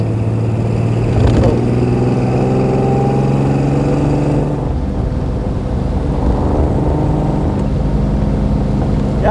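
A 1935 Frazer Nash BMW 315 Sport, a small classic car, driving along with a loud, steady engine drone and shifting revs close by, its pitch dropping midway as speed changes, with a brief word spoken over it.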